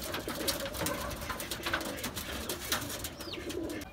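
Soft, repeated cooing of domestic pigeons close by, including a Lakha pigeon, kept with chicks and eggs; low throaty calls overlapping in a steady rhythm, with a faint chirp near the end.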